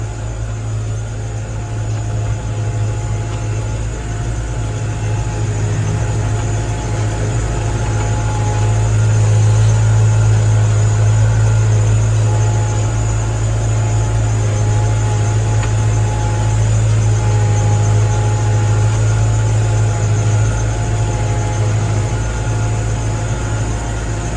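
A 21-year-old tractor's diesel engine drones steadily and low throughout, constant and loud with a deep rumble, swelling slightly in the middle before settling back.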